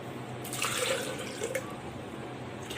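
Water is poured into a pot of chopped raw mango and sugar for mango sharbat, a steady trickling splash with gentle bubbling, close and moderately loud, with no talking.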